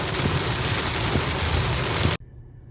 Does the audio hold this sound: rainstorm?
yes